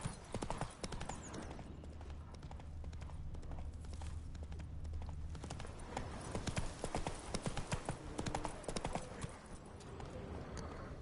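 Roach the horse gallops in The Witcher 3, with steady, close clip-clop hoofbeats running throughout over dense game ambience.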